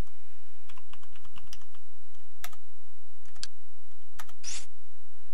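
Keys on a computer keyboard are tapped in a sparse, irregular run of soft clicks for a password, with a few sharper clacks near the end over a quiet room hum and no speech.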